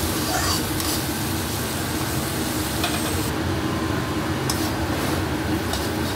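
A ground mustard, ginger and garlic paste fries over a low gas flame, a dense, steady sizzle with stirring noise that stays loud and even throughout, nearby and without speech.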